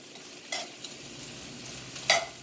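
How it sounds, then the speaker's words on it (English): Vegetables cooking over a very high flame in a pan: a continuous sizzle and hiss with two brief scraping stirs of a utensil against the pan, close and fairly loud, no talking. "And I'm cooking with a very high fire because I want them to soften up."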